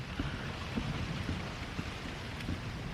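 Steady rain falls outdoors beside a backyard pool, a dense, even hiss with scattered drops pattering on surfaces, continuous and moderately close, with no voices.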